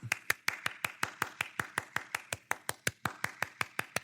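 A single pair of hands claps at a steady, even rhythm, about four to five claps per second, close and fairly quiet, with no voices.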